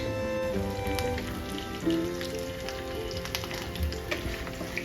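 Urad dal, chana dal, curry leaves and a pinch of hing fry in hot oil, giving a steady, close crackling sizzle with dense little pops over a faint background hum.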